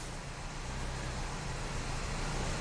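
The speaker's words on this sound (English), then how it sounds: "It's actually idling on its own with everything plugged in" A Nissan Sentra engine, a poorly running car fresh from parts swaps, idles on its own with a steady low rumble and broadband hiss, continuous and even throughout.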